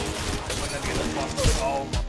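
Rapid gunfire in the mobile shooter Apex Legends Mobile, a close run of quick shots and impacts amid layered game effects and a busy, loud mix.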